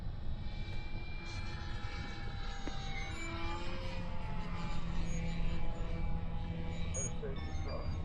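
A small model airplane engine buzzes and shifts pitch as it flies aerobatics at a distance, while people talk in the background.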